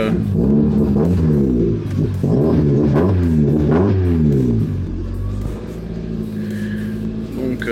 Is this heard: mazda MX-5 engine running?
yes